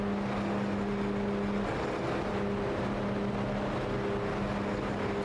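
Race cars circle Daytona's track in a slow pack behind the pace car before the PGR 500 restart, their engines a steady, loud, unbroken drone with humming tones.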